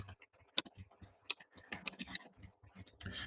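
Quick bursts of computer keyboard typing, close and fairly quiet, with irregular clicks and short pauses between runs of keystrokes while a prompt is entered.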